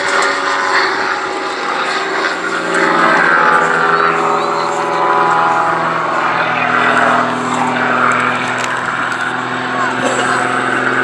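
Radio-controlled scale model aircraft flies at an outdoor airshow in Lincolnshire, its engine droning and whining with shifting pitch, heard under a public-address commentator talking throughout.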